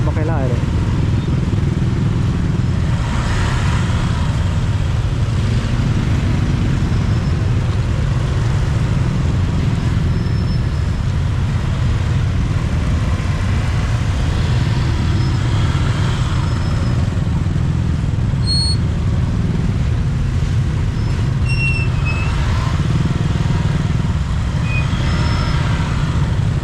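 Busy road traffic in Luang Prabang, Laos, with motorcycles and cars passing, a steady loud engine rumble throughout and occasional higher whines, with a voice talking over it.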